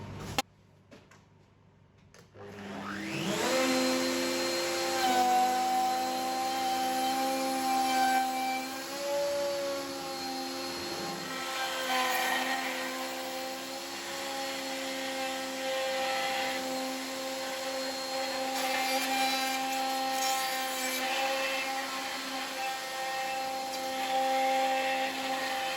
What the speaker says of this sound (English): I'll go round and plunge my router and check the heights.